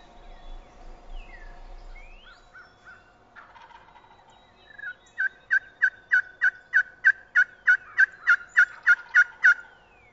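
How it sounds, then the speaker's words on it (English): Wild turkeys gobble in the distance in Missouri, then a rapid series of about a dozen evenly spaced, rhythmic hunting calls rings out clearly over a quiet outdoor background. "the turkeys are gobbling at every call we make"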